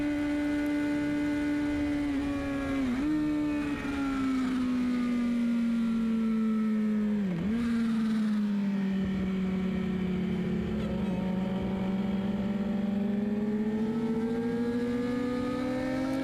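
A WERA Senior superbike racing on track at Barber, its engine howling loud and close throughout, with the pitch dipping briefly twice as gears change before climbing back up.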